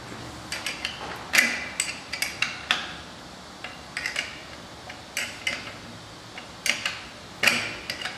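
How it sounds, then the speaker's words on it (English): Wrench clicking and tapping on a metal fitting while tightening a water valve on a 912T installation, with a string of close, light metallic clinks and ticks at irregular intervals. "And tighten with a 1/2 inch wrench."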